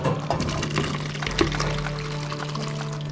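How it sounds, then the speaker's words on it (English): Cooked macaroni and its water poured into a strainer while making tuna pasta salad: a steady, close, rushing splash lasting about three seconds with no talk. "Just going to put it in the strainer, okay?"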